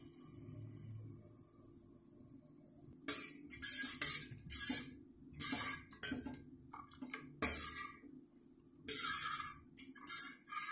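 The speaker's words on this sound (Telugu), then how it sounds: "ఈ పోపుని ఇప్పుడు చారులో పోసుకోవాలి" Hot tempering poured into horse gram rasam with amla, followed by a series of metallic clinks and scraping sounds from a spoon against the pot, close and fairly loud, with no talking.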